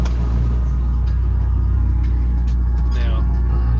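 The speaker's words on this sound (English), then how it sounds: "Turn this truck off for a sec." Truck engine idling in a loud steady low rumble, close and constant throughout, with a few faint knocks over it.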